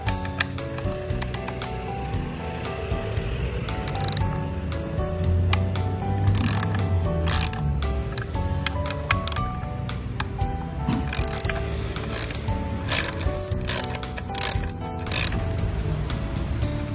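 Ratchet wrench with a 10mm socket loosening the four skid plate bolts on a Serow motorcycle, a busy run of rapid clicking pawl ratchets, close and steady over several seconds with brief pauses.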